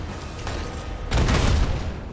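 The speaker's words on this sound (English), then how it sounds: "where does that explosion come from?" An explosion sound effect: a rumbling, crackling background swells into a louder broadband boom about halfway through, then fades back to a dense, noisy roar with no voices.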